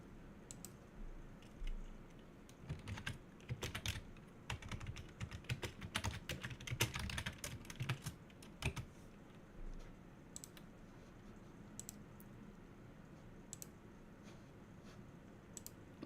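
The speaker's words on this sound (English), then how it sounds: "Can you hear me typing?" Typing on a computer keyboard, with rapid irregular key clicks in bursts and pauses, close and fairly quiet over a low background hum.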